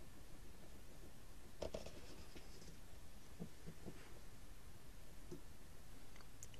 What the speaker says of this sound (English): I'll now put a mark with our pencil into this tube.